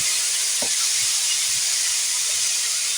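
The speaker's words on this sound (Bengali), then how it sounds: "গুগলিটাকে আমি তেলের ওপরে দিয়ে একটু নড়াচড়া করে নেব খুব একটা নড়াচড়া করবো না দু চারবার ব্যাস হয়ে গেল এবার দিয়ে দেবো পেঁপে" Apple snails and papaya sizzle loudly in hot oil in a pan, a steady, close, dense hiss that fills the clip, with a brief clatter of stirring partway through.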